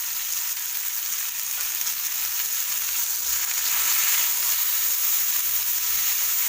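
Cauliflower and potatoes fry in a pan with a loud, steady, hissing sizzle that runs unbroken throughout and is close, with no talk.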